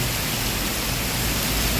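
Heavy rain falls on a Bangkok road near the Bang Na–Trat junction toward Suvarnabhumi, a dense, even hiss of downpour that stays loud and constant throughout.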